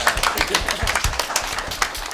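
An audience claps at a subscriber-milestone fan event held at YouTube Space Tokyo, with a brief burst of distinct, fairly close hand claps in an uneven patter that stays loud and busy throughout.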